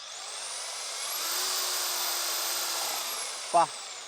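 An electric drilling machine spins the blade of a homemade flour mill, a loud steady high whine that rises in pitch, holds, then winds down, with a brief voice near the end.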